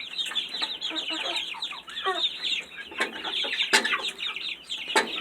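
A coop holding fifteen Buff Orpington chickens clucks and chatters busily, overlapping calls and squawks at close range with a few sharper bursts.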